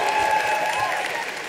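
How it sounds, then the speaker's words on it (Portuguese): A television studio audience applauds for Magali in a dense, continuous wash of clapping, heard briefly with a faint tone running underneath. "Muitos aplausos pra Magali"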